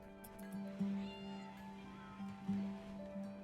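A cat in the Rimworld video game gives two short meows, faint and soft over a steady game hum and music.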